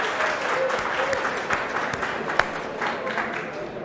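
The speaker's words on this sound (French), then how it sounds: "applaudissez très très fort pour Daouda qui est fair play" A game-show audience applauds a contestant, with dense, steady clapping mixed with crowd noise and a sharp clap standing out midway, while a voice talks faintly underneath.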